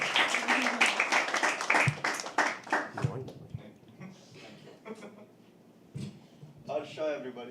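Audience at a live poetry open mic clapping for a performer, a dense burst of hand claps fading out after a few seconds into scattered claps and room chatter.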